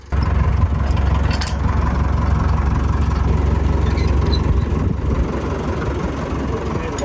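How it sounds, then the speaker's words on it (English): A tractor engine pulls a cart on a Mennonite farm in Belize. It gives a loud, steady low rumble close by and holds constant throughout, with a few faint higher sounds mixed in. "they're using the tractor to pull the cart"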